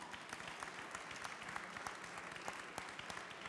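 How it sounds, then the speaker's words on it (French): An audience at a Lyon cooking competition event applauds the people of Lyon, a steady wash of many hands clapping at a moderate distance, continuous throughout without speech. "Applaudissez tous les Lyonnais"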